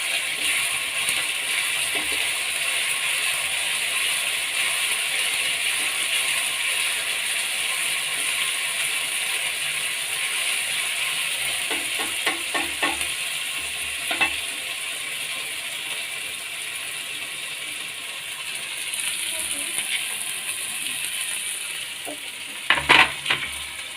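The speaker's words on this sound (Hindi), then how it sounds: "उसके बाद हम चलाएंगे थोड़ा सा ताकि ये अच्छी तरह से मिल जाए" Chana masala is stirred in a frying pan, a steady bright sizzle running throughout with scattered scraping and clicking from the spoon against the pan, growing busier toward the end; no one speaks.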